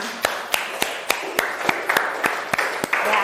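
Applause in a classroom after group presentations, sharp distinct claps from a small group, close and fairly loud, growing denser toward the end.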